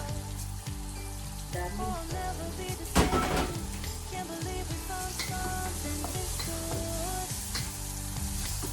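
Beef caldereta onions sautéing in a pan for a fiesta batch, a loud steady sizzle with stirring clatter throughout, while a voice talks over it and a brief sharp knock sounds midway.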